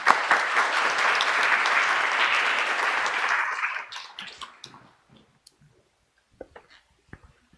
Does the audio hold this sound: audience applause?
yes